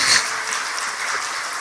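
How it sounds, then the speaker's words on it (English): Unitarian Universalist congregation at a Sunday service gives a round of applause, a dense continuous wash of clapping that stays steady and fairly loud. "I'm going to say one more round of applause for yourselves for solving the great mystery."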